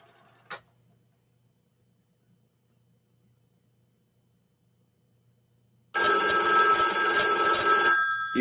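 A telephone on a central office line rings during a test call, producing one sustained bright electric bell burst lasting about two seconds after a long silence, preceded by a brief faint tick, close and loud.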